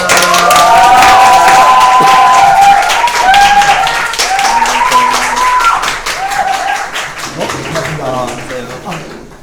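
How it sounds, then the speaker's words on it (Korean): A studio audience at a Korean police-themed variety show bursts into loud applause and cheering as a guest detective is welcomed, sustained clapping and shouts close by, easing off toward the end with voices over it. "큰 박수로!"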